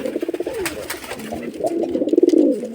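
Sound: Rajshahi Giribaz pigeons cooing

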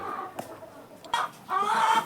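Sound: laying hens clucking on a poultry farm

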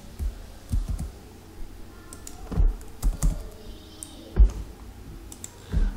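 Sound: typing on a computer keyboard

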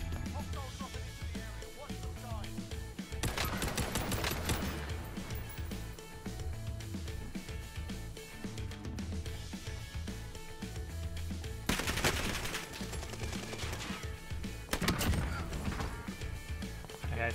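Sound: gunfire from the STG 44 in Call of Duty Warzone, a video game

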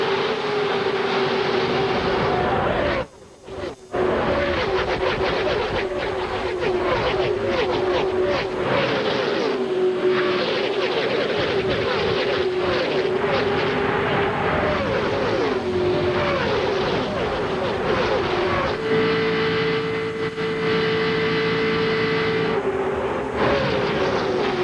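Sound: NASCAR Winston Cup stock cars racing at the Daytona 500

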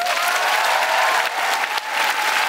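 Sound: audience applause for Daan Roosegaarde

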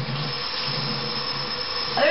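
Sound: hot tap water running into kitchen sink

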